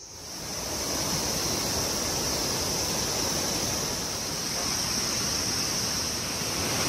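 A small waterfall beside a forested stretch of the Annapurna Circuit trail gives off a steady, fairly faint rushing hiss, broad and even throughout with no voices.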